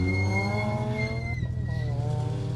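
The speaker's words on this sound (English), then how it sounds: "A 205 GTI over Epynt still looks right, doesn't it?" A Peugeot 205 GTI rally car on an asphalt stage at Epynt screams past at high revs, its engine note holding then dipping sharply with a gear change before climbing again, loud and close.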